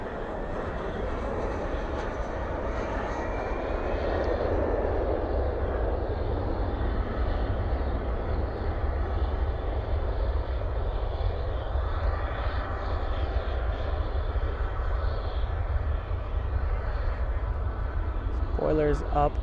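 A jet airliner lands at DFW at night, with spoilers up and thrust reversers deployed. It makes a steady, loud roar that holds for the whole stretch, heard from a distance, with a faint voice over it.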